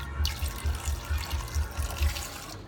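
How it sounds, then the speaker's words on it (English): Super Clean degreaser poured into a Chrysler 300C headlight, a steady gurgling, splashing pour with rhythmic glugs, close and moderately loud, no talking. "you take a little of the super clean, you pour it down in your headlight"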